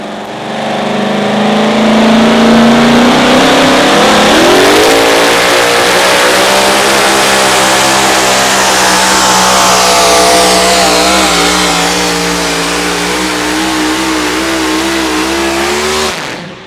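A two-wheel-drive component pulling tractor engine roars at full throttle at an outlaw tractor pull in Wisner, Nebraska, loud and close, its pitch climbing as it revs hard and holds for a long sustained run.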